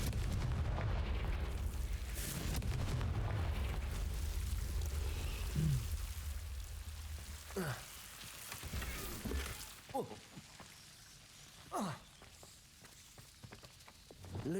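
In Hogwarts Legacy, a Confringo blasting spell detonates with a loud, rumbling explosion that fills the first several seconds and then fades into scattered crackles and debris thuds.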